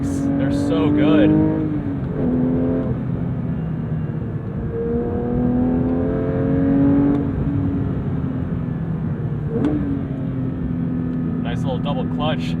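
The engine of a manual Porsche 992.1 GT3 revs through several rising and falling sweeps during double-clutch gear changes, heard from inside the car beneath someone talking.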